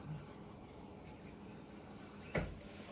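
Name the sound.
water being poured into container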